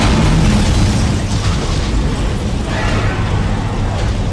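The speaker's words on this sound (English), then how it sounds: "loading the damage report has caused the damage report machine to explode" A damage report machine explodes in the sci-fi horror game Dead Space, a loud, sustained booming blast with heavy low rumble and crackling debris filling the whole moment, no talk over it.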